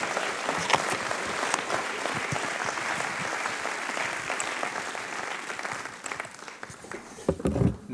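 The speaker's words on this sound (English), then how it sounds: "I know you'll give them a warm round of applause" An audience at a business AGM in Blackpool gives a warm round of applause as a team walks onto the stage, a full, continuous clapping that thins out and turns more scattered toward the end.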